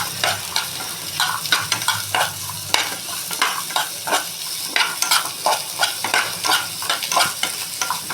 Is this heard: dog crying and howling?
no